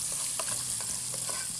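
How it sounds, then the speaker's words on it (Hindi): Onion sautéing in a pan with light sizzling, stirred now and then by a utensil scraping and clinking against the pan, steady and close with no talk, while preparing achari aloo baingan and tomato rice. "एक अनियन मैंने साथ इसके डाल दी है, और अब हम इसको हल्का सा सौते करेंगे"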